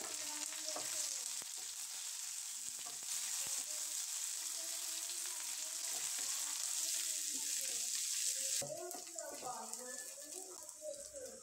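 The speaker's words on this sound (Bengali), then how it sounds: "পেঁয়াজটা লাল লাল করে ভেজে নেব।" Chopped onions frying in oil with whole cumin, dried chilies and whole spices for veg pulao, a steady bright hiss with occasional stirring, some faint voice-like sounds toward the end.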